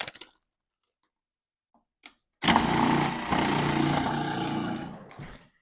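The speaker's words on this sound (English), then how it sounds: "We take some almond paste and we're going to grate that in the food processor." After a quiet start, a food processor grating almond paste roars into a loud, close motor whir with gritty churning that lasts about three seconds before cutting off.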